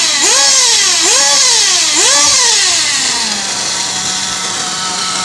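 A nitro engine revs loudly three times in rising, falling sweeps, then drops to a steady, buzzing idle, very close and loud with no talk.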